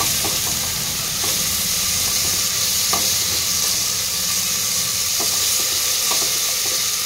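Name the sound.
stirring ginger garlic paste frying in pan for chicken biryani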